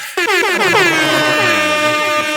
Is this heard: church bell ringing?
no